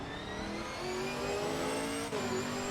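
A Chevrolet Camaro GT4.R race car at Monza in Assetto Corsa Competizione, its engine droning steadily and rising in pitch as it accelerates, loud and alone with no talk.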